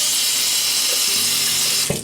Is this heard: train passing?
no